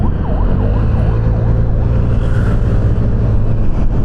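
A loud car roars past on a road beside a Vespa S125 scooter, rising over the scooter's steady engine drone, with a wavering siren-like tone early on.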